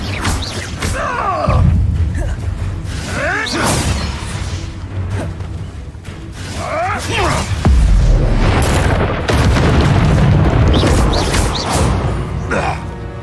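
Repeated Incendio fire spells in Hogwarts Legacy, several loud booming blasts and fiery bursts recurring through a busy battle, with occasional voices mixed under the combat.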